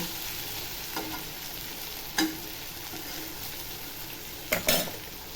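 Brinjal, peas and potatoes sizzle steadily in hot oil, with a few sharp scrapes and clinks from a spoon stirring the pan.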